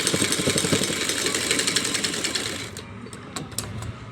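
A sewing machine stitching a cotton dress runs in a fast, even rhythmic chatter for a few seconds, then stops, leaving a few sparse clicks and handling taps.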